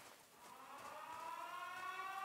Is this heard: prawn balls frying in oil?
no